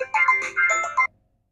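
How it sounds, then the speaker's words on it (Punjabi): A mobile phone ringtone plays a bright, repeating electronic melody for about a second, loud and close, then cuts off abruptly into silence, with no speech over it. "ਫੋਨ ਆ ਗਿਆ ਮੈਨੂੰ ਓਏ ਫੋਨ ਤਾਂ ਮੇਰਾ"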